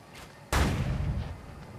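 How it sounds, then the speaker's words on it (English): Gunshot in The Culling video game, a single sharp, loud report that cracks suddenly and rolls off into a lingering low rumble, heard alone after a quiet lead-in. "Wait, was that a gunshot?"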